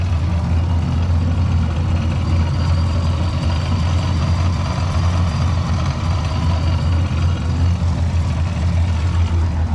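A loud, steady engine rumble with a deep low drone from a 2017 GMC Sierra Denali pickup's L86 V8 with a Whipple 2.9-litre supercharger, cam, headers and Borla exhaust, running continuously at close range without any change in pitch.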